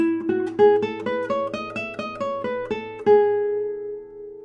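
A French classical guitar plays a quick ascending and descending scale, each note plucked cleanly, with the last note and open strings ringing out and fading.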